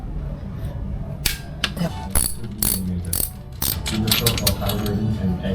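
A Suzuki Burgman EX scooter's CVT cover being taken apart with a ratchet and 12 mm socket: rapid, close ratcheting clicks come in quick runs, with someone talking over them.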